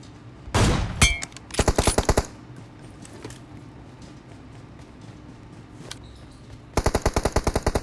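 Rapid gunfire from an MK14 rifle with Dragon skin in the BGMI PUBG mobile game, a dense burst followed by evenly spaced rounds, a pause, then another steady string of loud shots near the end.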